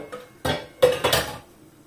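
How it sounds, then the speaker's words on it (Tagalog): A worn frying pan is picked up and handled in a home kitchen, giving a few close, short metallic clanks and scrapes in quick succession, then quiet. "Kuha tayo ng kawali."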